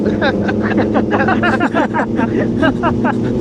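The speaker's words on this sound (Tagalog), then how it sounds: "Hingal na yung makina" A Kawasaki ZH2 motorcycle engine labors under heavy throttle on a group ride, droning steadily beneath loud, overlapping voices.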